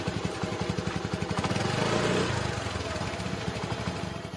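A motorcycle engine runs steadily nearby with a regular pulsing chug, swelling briefly louder in the middle before settling back to an even idle-like beat, with no talk.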